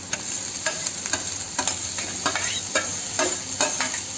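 Carrot, beans and cabbage poriyal with salt being stirred and sautéed in a pan, with a steady sizzle under repeated scraping strokes of the spatula, close and alone with no talk.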